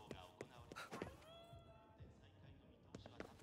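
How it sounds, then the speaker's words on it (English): A cat meows in the Ghostwire: Tokyo video game, a short high mew rising out of busy game ambience, with a few soft thuds and a faint voice nearby. "I heard a kitty though."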